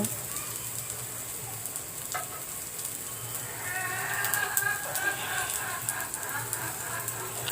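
Chopped garlic, sliced onion and green chilies sizzle in mustard oil in a wok, a steady hissing crackle that swells toward the end, with faint background murmurs.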